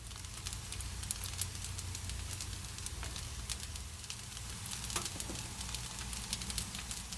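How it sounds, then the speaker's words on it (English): Tofu frying in a pan seasoned with garlic and onion powder, giving a steady, moderate sizzle with crackling pops throughout and no voices. "I'm going to start frying off our tofu"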